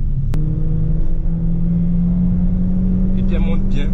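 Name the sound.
Opel Vectra GTS engine revving up to 6000 rpm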